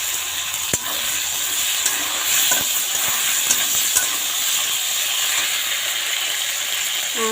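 Cut potatoes added to frying onions in a pan, a loud, steady hissing sizzle with a few sharp clatters as the pieces land, no talking.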